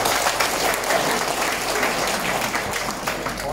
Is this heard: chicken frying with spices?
no